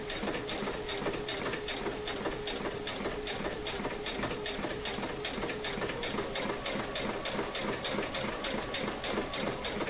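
A sewing machine runs steadily while chain piecing quilt half-square triangles, its fast needle rhythm close and continuous for the whole stretch with no talking.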